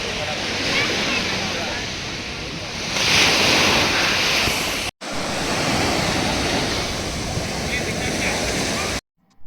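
Ocean waves wash onto the beach at St. Mary's Island, Udupi, a loud, continuous broadband roar of surf mixed with strong wind buffeting the microphone, with brief cuts in the sound.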